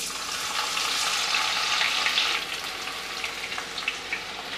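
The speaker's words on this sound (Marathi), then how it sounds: "मी तेल गरम करून घेतलेलं आहे। आता यामध्ये तेजपत्त्याची पानं घालूया, त्यानंतर आलं लसूण ठेचलेलं आहे ना ते घालूया।" Bay leaves and crushed ginger and garlic frying in hot oil for Nagpur-style Saoji chicken sukka, a steady close hiss and crackle that is loudest at first and eases into softer, scattered sizzling.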